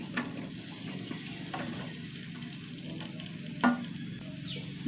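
Potatoes, ridge gourd and onion sautéing in a pan give a low, steady sizzle with a few scraping stirs and one sharper clink, quiet and close, with no voices.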